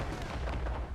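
Naval cannons fire in an Assassin's Creed Rogue ship battle, giving a deep, booming rumble with heavy low thuds that run together over about a second, loud and close.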